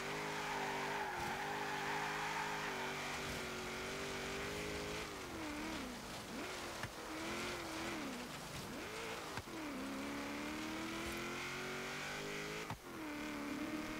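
A 2007 Toyota Hilux Arctic Trucks AT38 on an autocross course, its engine roaring loud and close without a break, revs climbing and dropping sharply through gear changes and corners.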